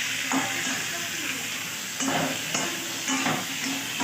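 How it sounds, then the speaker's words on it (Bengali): Tomatoes with whole garam masala and ginger stirred as they fry in a pan for a vegetarian paneer curry, a steady sizzle broken by a few scraping stirs of a utensil, close up. "এবার এটাকে হালকা করে নাড়তে হবে।"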